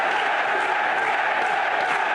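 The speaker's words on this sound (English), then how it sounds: "And this crowd is on their feet." Arena crowd at a professional wrestling match cheering and roaring on their feet, a loud, continuous wall of voices with no break.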